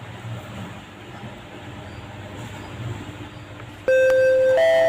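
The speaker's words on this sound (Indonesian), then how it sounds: "berhubung bel sudah berbunyi" A school bell chimes a tone, then a higher tone, loud and sustained, cutting in after quiet classroom background noise.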